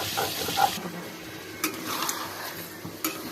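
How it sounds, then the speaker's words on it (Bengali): Meat frying with onions in a pan gives a soft, steady sizzle, with a few sharp scrapes and clinks of a utensil against the pan now and then, close by and with no talk. "পেঁয়াজ দিয়ে মাংসটা এভাবে ভাজলে মাংসের যে একটা গন্ধ থাকে, সেই গন্ধটা আর থাকে না।"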